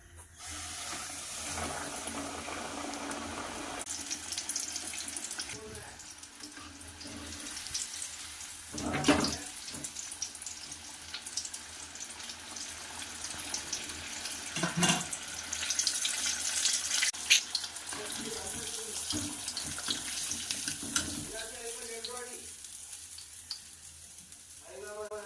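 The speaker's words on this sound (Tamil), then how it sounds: "இப்படி கொண்டு நம்ம எண்ணெயில் போடுறோம்" Country rooster chicken pieces coated for KFC-style frying sizzle steadily in hot oil, a continuous broadband crackle with occasional louder bursts as pieces go in.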